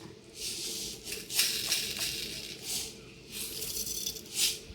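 A mixer grinder grinding coconut with a little water whirs and rattles in short repeated bursts, loud and close, with brief pauses between pulses and no talking.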